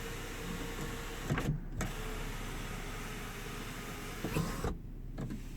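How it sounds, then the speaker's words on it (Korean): A first-generation Volvo S80 T6 sunroof motor whirs in two separate runs inside the quiet car cabin, each a steady mechanical hum lasting about half a second to a second, with a short pause between them. "선루프 작동 상태는"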